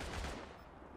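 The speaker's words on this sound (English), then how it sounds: "I'm actually hearing gunshots this way." Gunfire in a video game on the Tannenberg map, a continuous rumbling wash of far-off shots that fades slightly over one second, with no voices.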